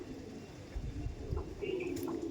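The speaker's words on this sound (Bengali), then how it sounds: "এই দেখুন এটা হচ্ছে নর পায়রা" Male Andhra pigeons cooing softly, a few low throaty coos rising from a quiet background with a faint chirp near the end.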